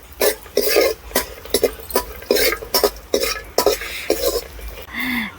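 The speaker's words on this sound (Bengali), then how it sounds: "এখানে হালকা আঁচে ভাজতে হবে" Vermicelli is stirred in a pan over low heat, with repeated scraping and clinking strokes in an uneven rhythm and a soft background sizzle, loud and close.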